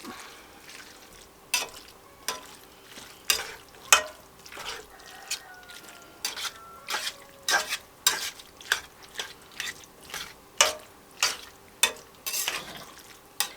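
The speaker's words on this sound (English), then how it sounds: "Now we're just going to mix all this up." A spoon repeatedly scrapes and clacks through a mixture of ingredients including canned chilies, about a dozen distinct strokes in a loose rhythm, close and clear over a quiet background.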